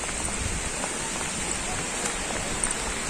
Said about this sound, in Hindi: मस्त बरसात भरे